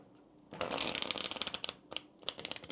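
A deck of tarot cards is shuffled close by: a brief pause, then rapid riffling bursts of crisp flicks, stopping and starting again.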